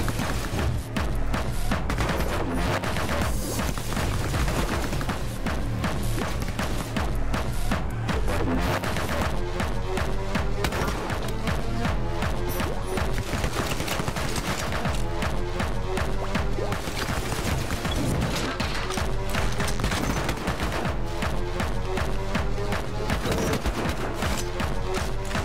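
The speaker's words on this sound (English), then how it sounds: "Hold on, machine gun." A video game machine gun in Anger Foot roars in a nonstop, dense rattle of rapid shots with booming impacts, loud and relentless throughout, with no voices.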